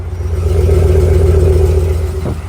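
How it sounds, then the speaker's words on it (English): Engine of a pickup truck with a V8 revving close by, a loud steady deep rumble with a low hum held for about two seconds before it drops off, no talk over it. "You can hear that V8."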